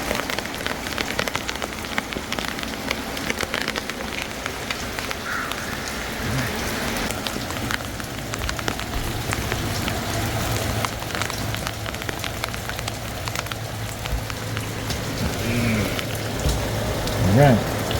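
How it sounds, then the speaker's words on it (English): Steady rain pours down outdoors, a dense, close hiss of drops on surfaces that continues for the whole stretch, with a faint rustle near the end. "Man, it's raining, boy."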